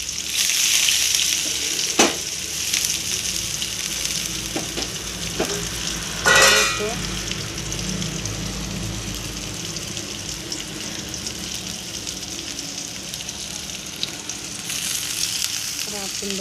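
Chopped onions frying in hot oil after mustard seeds have popped, a continuous close sizzle with a few sharp clinks and a short burst of stirring.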